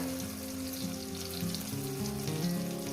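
Poppy seed paste and tomato frying together in a pan, a steady close sizzle with crackling and faint stirring throughout, no voices.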